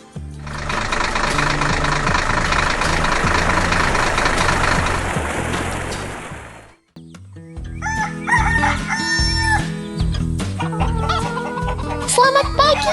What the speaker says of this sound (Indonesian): Teman-teman ayam kita sudah bangun dan bersiap untuk beraktivitas.